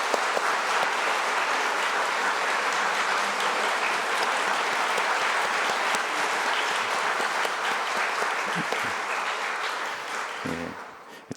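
A church congregation at an all-generation Sunday worship service claps for a group of students, a sustained dense wave of applause from a large crowd that holds steady before tapering off near the end.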